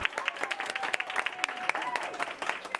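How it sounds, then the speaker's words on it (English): Co-workers at a Michigan medical center clap and cheer for a nurse who recovered from COVID-19, dense sustained applause with sharp individual claps and crowd voices throughout. "A Michigan Health nurse being cheered on by her own co-workers"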